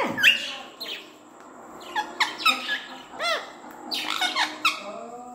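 A pet bird named Mayil lets out a run of sharp squawks and high chirps, close and loud, in short bursts with brief gaps between them.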